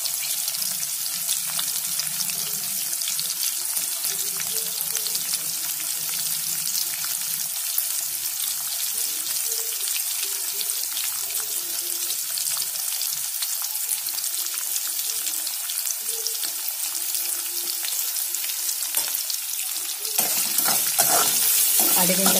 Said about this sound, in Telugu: ఇవన్నీ కూడా కొంచెం రెడ్డిష్ కలర్లోకి వచ్చే వరకు వేయించుకోవాలి